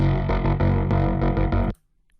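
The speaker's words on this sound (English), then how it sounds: "A phaser," Distorted, effect-heavy music through a phaser effect in Bitwig Studio, with a sweeping, swirling tone, plays loudly, then cuts off abruptly into near silence.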